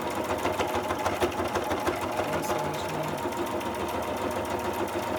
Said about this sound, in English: I'm just gonna do a straight stitch just to give it a little bit more interest.